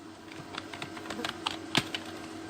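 Quick, uneven keystrokes on a computer keyboard while HTML code is typed, a run of close, light clicks ending with a sharper tap, fairly quiet in a still room.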